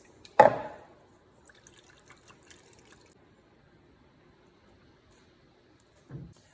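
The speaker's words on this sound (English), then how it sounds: "we're gonna add some water to this and stir it to help it cool off quicker" Water is poured into a cooked teff mixture for injera, a short close splash at the start followed by faint stirring and dripping, then another brief slosh at the end, otherwise quiet.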